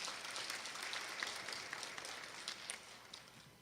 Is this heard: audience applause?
yes